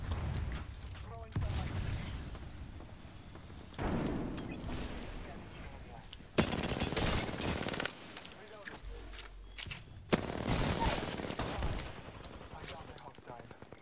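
Gunfire bursts from the Apex Legends video game, loud repeated volleys in several clusters with brief gaps, alongside clicks and mechanical creaks, with players talking over the action.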